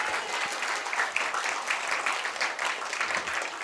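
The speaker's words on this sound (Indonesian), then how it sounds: "Berikan aplaus dan tepuk tangan untuk pembina dan penasehat remaja masjid." Lively audience applause and clapping at a mosque youth gathering for the youth group's patrons and advisers; dense, continuous clapping with scattered sharper claps, steady and fairly near for a few seconds, no speech.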